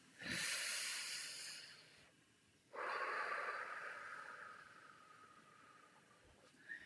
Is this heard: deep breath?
yes